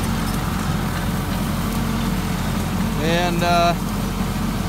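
Steady low engine rumble of an Allis-Chalmers 9170 tractor idling throughout, with a brief voice and a short whine rising near the end.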